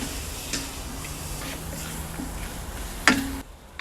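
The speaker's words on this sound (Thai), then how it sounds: "ใส่กุ้งลงไปครับ สุดท้ายแล้ว ผัดให้เข้ากัน" Shrimp stir-fried with luffa gourd and egg in a pan, a soft constant sizzle with occasional spatula scrapes and one sharper clack near the end.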